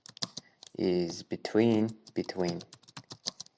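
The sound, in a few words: typing on a computer keyboard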